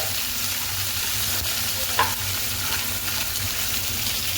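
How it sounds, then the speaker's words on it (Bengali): Chopped green chillies frying in a pan for chilli chicken, a dense continuous sizzle with a faint hum beneath and a single brief clink of utensil midway, close and steady, with no speech. "এখন আমরা লঙ্কা যে কটা কেটে রেখেছিলাম ওগুলো দিয়ে দিচ্ছি এবার আমরা ভেজে নিয়ে"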